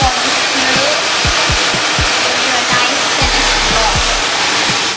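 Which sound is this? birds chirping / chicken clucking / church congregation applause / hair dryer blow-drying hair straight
hair dryer blow-drying hair straight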